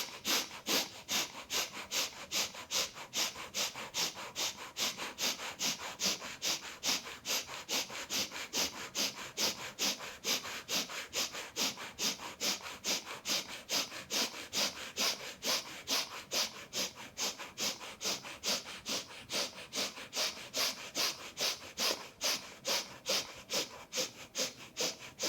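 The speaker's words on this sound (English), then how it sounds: "We come to the panting breath of fire. Quick sniffs through the nose, pumping your belly." Rapid kundalini breath of fire panting, quick rhythmic sniffs through the nose driven by belly pumping, a steady fast pulse of close breaths continuing for the whole stretch with no talking.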